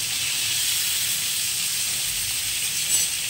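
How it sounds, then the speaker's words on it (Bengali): Whole pointed gourds frying in a pan with poppy seeds, nigella seeds and green chillies give off a steady, even hiss of hot oil that runs unbroken throughout, close and moderately loud, with no voices. "আপনারা দেখুন আমি কী করে গোটা পটল ভাজা করছি।"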